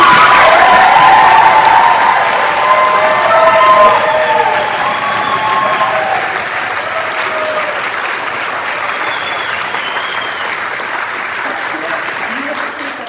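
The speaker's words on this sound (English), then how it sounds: "Please give a final round of applause to our Summer" Sustained applause at the close of a university nursing pinning ceremony, a large indoor crowd clapping loudly with a few cheers, gradually easing in level over about thirteen seconds.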